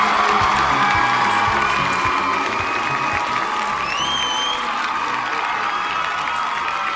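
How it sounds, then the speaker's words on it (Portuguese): Dense crowd applause with cheering and scattered whoops, loud and continuous throughout, filling the room evenly and tapering only slightly toward the end. "Vamos bater palmas, por favor."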